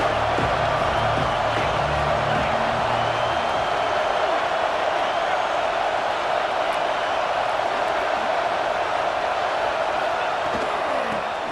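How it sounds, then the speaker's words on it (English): Michigan at Ohio State college football: the stadium crowd gives a sustained, loud roar of cheering that stays dense and even throughout, with a brief low rumble near the start. "This crowd knows when to bring it."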